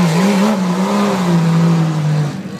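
A tuff truck engine wound out at full throttle at a tuff truck event, a loud sustained roar that wavers in pitch and then eases off near the end, close and without voices.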